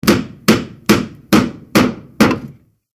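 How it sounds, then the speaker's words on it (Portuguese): Six loud, evenly spaced hammer blows ring out close by, each a sharp thwack with a short decay, and then the sound stops abruptly. "Ah, ah, martelei o dedo."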